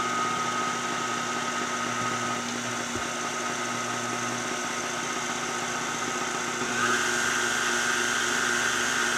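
A stand mixer mixing sandwich bread dough, running as a loud, steady motor drone with a constant hum that shifts slightly in pitch partway through.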